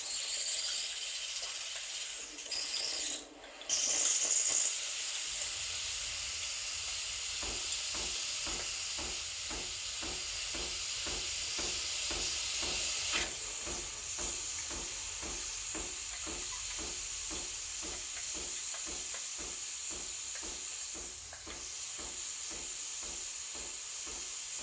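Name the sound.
Breville Barista Express espresso machine steam wand steaming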